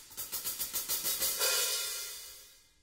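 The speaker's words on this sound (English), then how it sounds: "This one over here is called the hi-hat." A quick run of about ten crisp hi-hat taps in steady rhythm, then the cymbal opens into a sizzling wash that fades away.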